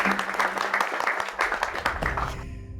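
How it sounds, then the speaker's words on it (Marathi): Applause from a crowd on a Marathi television drama set, a dense steady patter of clapping over a low sustained hum, with voices faintly beneath and the clapping thinning out at the end. "टाळ्या."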